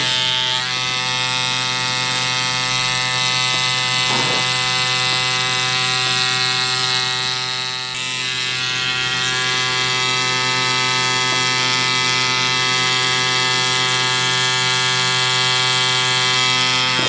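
A tattoo machine buzzes steadily and loudly while inking a Super Mario design, a constant electric hum with one brief dip in pitch partway through.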